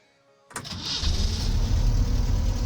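The engine of a BAZ-22154 bus in the OMSI 2 driving simulator cranks and starts after a brief quiet moment, then settles into a loud, steady diesel idle rumble.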